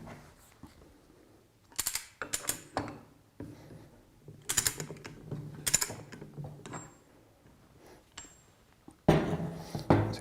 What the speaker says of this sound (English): The first item we're going to start with is undoing the one nut.